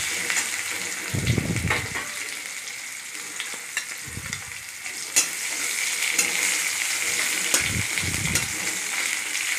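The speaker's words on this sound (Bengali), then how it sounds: "তেলে ভালো করে টমেটো কুচিগুলো একটু নাড়াচাড়া করে নিলাম, ভাজা ভাজা করে নেব" Oil sizzling steadily in a pan while a utensil scrapes and stirs chopped tomatoes in several short bursts, close and continuous.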